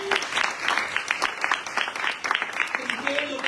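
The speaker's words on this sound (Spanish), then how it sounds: "Denle un aplauso" A church congregation applauds during a sermon, a dense crowd of clapping rolling on throughout while voices call out over it.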